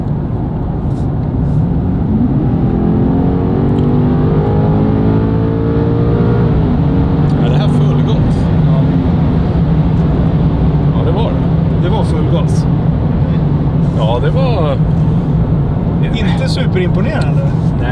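A 2025 BMW M5 G90 hybrid with 727 hp, in Dynamic Plus mode, accelerating hard at full throttle kickdown, its engine note climbing steadily and loudly from inside the cabin while occupants talk over it.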